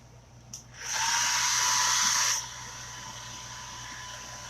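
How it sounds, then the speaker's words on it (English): A handheld dryer blowing on chalk paste spread on canvas, switching on with a short click and a steady whirring hiss for about a second and a half before cutting back to quiet room tone. "I'm going to just fold it back and dry that with the dryer."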